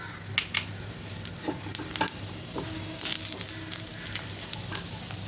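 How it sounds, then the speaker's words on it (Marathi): Cumin seeds crackle and sizzle in hot oil, with scattered sharp pops and a soft steady frying hiss, close up and without speech. "तेल तापलं की त्यात जिरं टाकायचं"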